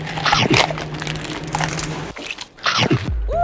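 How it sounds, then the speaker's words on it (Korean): A person bites into a large raw Imjado onion outdoors, producing a loud, close, juicy crunch followed by wet chewing, then a second crisp bite near the end. "임자도에서는 더울 때는 시원하게 양파를 하나씩 먹고 일합니다"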